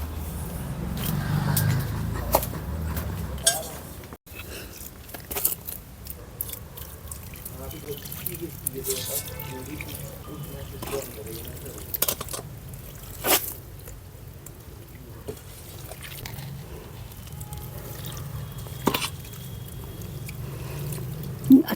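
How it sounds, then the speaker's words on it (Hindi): Water is poured onto garden soil over freshly sown vegetable seeds, giving soft trickling and splashing that comes and goes, with a person talking over much of it. "अब थोड़ा सा पानी दे दूँगी"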